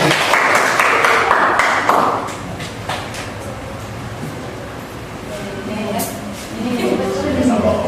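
Primary school pupils in a maths classroom clap for a classmate in a brief, lively burst at the start, which fades into classroom noise and a voice speaking.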